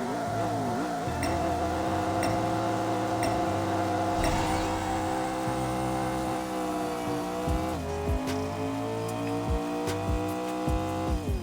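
A fully upgraded Ford GT with a Cobra DSR engine on a half-mile run in a racing video game: loud, continuous engine drone climbing in pitch, broken by gear shifts where the pitch drops before rising again.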